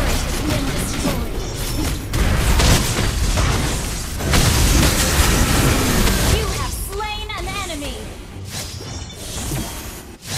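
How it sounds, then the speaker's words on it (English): A turret is destroyed in a MOBA game, with loud booming explosions, whooshes and crashing impacts layered densely over battle noise, and a short burst of a chirpy announcer-like voice near the end. "Our turret has been destroyed."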